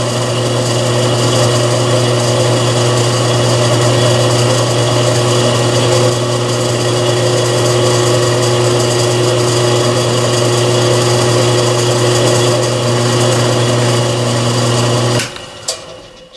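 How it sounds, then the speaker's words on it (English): A steady, loud high-pitched whine of a center drill spotting metal on a lathe, with a constant hum, runs unbroken, then cuts off abruptly with a couple of clicks at the end. "We're going to give this a touch with a center drill first."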